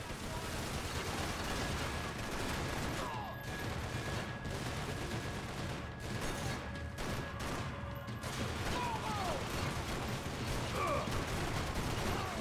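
Continuous gunfire in the video game Max Payne 3, a dense rattling barrage of shots mixed with game action and music, steady and loud throughout with no clear pauses.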